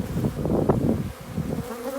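Honey bees buzz steadily around an open beehive during an inspection of honey and brood frames, a close, dense insect drone lasting about two seconds with no talking.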